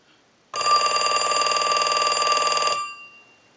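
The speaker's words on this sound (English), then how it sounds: "we're going to send a ring cycle" An original-model Mickey Mouse telephone's bell rings in one sustained burst of rapid metallic trilling for about two seconds, loud and close, then stops with a short fading tail.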